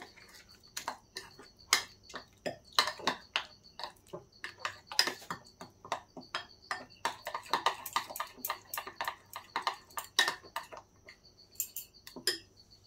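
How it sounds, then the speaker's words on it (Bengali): A spoon clinks and scrapes steadily against a bowl while semolina and yogurt batter is stirred with water. The taps come fast and irregular, close and clear, with no talk. "দিয়ে দিচ্ছি দেখেন কিছুটা জল দিয়ে মিশিয়ে নিতে হবে।"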